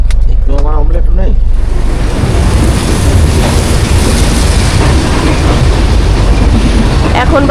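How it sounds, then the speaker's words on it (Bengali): A passenger train pulling into Lucknow station gives a loud, heavy rumble that swells and holds steady, with a voice briefly heard at the start. "ট্রেন লখনৌ স্টেশনে ঢুকছে"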